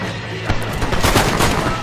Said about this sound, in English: I'm gonna try out this new pistol.